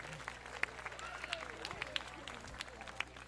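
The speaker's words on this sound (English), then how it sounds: "A big round of applause for all of our new parents." Scattered, fairly faint applause from parents and families gathered at a school flag assembly, with sharp individual claps standing out over a low murmur of voices.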